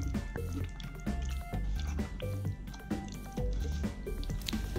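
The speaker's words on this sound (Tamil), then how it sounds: "கொஞ்சமாக தண்ணி விட்டு நல்லா கரைச்சிக்கிறேன்" Tamarind pulp is squeezed and mashed by hand with a little water to make paste, giving rhythmic wet squishes and drips in close, repeated bursts.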